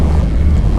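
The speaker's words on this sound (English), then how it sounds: "It's windy" Steady wind roar buffets the microphone while riding a bicycle on a forest road during a rainy group ride, a constant loud low rumble with no voices.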